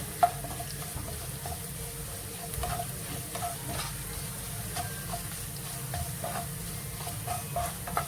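Sliced ginger sizzles and fries in oil in a pan while a fish pickle is being made, with a steady crackling hiss, occasional stirring scrapes and light clinks, and no voices.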